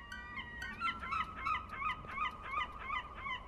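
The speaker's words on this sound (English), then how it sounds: "Some seagull, shut up." A seabird calls repeatedly in the Garten of Banban 2 video game, giving a steady string of honking, goose-like cries at a moderate, even pace.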